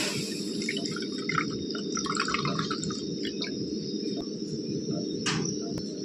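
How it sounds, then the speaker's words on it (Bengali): Milk is poured into a pan as a steady, soft, even liquid rush close by, with a faint high ringing tone in the background and no voices. "এই দুধটা আমি প্রথমে দিয়ে দেবো।"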